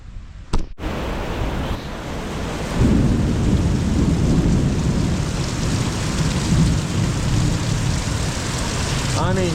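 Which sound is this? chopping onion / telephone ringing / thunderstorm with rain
thunderstorm with rain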